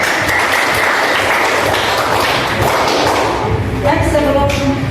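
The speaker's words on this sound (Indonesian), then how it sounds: "Tepuk tangan untuk kita." Classroom of high school students clapping together in a dense, loud burst that fills the whole stretch, with voices chattering and calling out underneath before it tails off.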